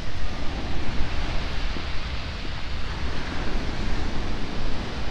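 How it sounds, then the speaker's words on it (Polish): Pacific Ocean surf breaking on the shore at Lima, Peru: a continuous, loud, broadband rushing roar with gusty wind on the microphone, with no voices. "Ocean spokojny, tak?"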